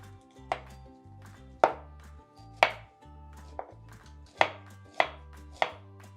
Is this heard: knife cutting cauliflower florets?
yes